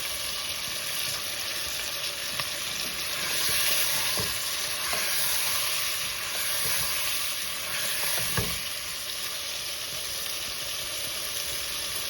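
Chicken qorma ingredients pan-roast with a constant loud sizzling hiss over a dozen seconds, with faint stirring knocks now and then and no speech.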